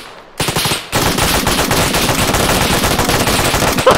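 An M2 heavy machine gun fires in the military video game ArmA 3: a sustained, loud, dense burst of rapid automatic fire after a brief opening shot, close and overwhelming, with no voices.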